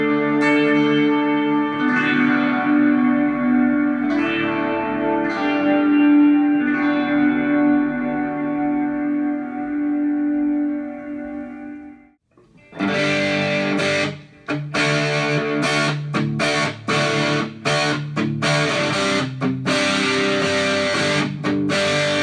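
Electric guitar played through a Boss MS-3 effects unit on a drive setting with a little reverb: sustained distorted chords ring out and fade, then a brief gap before choppy, rhythmic driven strumming, loud and close.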